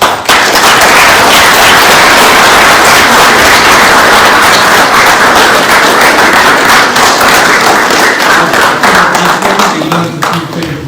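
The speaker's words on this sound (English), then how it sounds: "Ladies and gentlemen, please, another round of applause." A large audience at an education event delivers a loud, continuous round of applause, crisp and dense throughout, with the clapping tapering slightly near the end.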